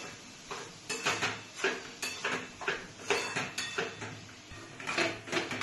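A spoon scrapes and clatters against a pan as khoya (mawa) is stirred over a low gas flame, a steady series of close, moderately loud knocks and scrapes in an uneven rhythm, with no voices.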